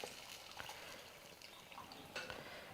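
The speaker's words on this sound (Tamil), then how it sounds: "இந்த புளி தண்ணி சேர்த்துக்கிறேன்." Tamarind water is poured into a simmering curry, giving a soft, continuous liquid splash and trickle with faint bubbling, fairly quiet and close.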